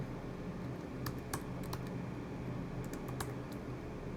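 Quick, light typing on a computer keyboard while editing a document, soft scattered key clicks in short bursts, faint and close over a steady background hiss, with no talk.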